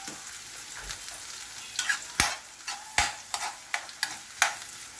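Onion and garlic sizzle in leftover frying oil in a pan for a chicken asado, with steady crackling, several sharp stirring scrapes and clatters, and no talk.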